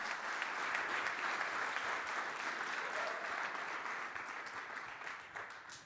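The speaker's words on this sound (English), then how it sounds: "So a round of applause for Flash Dash." A crowd applauds steadily at a hackathon closing ceremony in London, a dense wash of clapping that holds for several seconds and slowly thins, with no voices over it.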